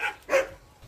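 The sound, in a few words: dog barking during training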